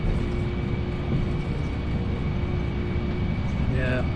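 A Boeing 747-400 accelerates down the runway on its takeoff roll in Flight Simulator X, a steady broadband engine roar with a faint high whine, continuous and loud, with no speech over it.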